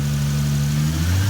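A turbocharged 2JZ engine in a Mk3 Toyota Supra runs loudly nearby, its low hum holding steady and then rising in pitch as it revs up.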